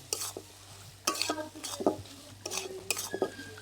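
Spices and mashed boiled potato being sautéed for a Bengali lentil curry, with busy spoon stirring and scraping against the pot over a soft sizzle, close up and quiet.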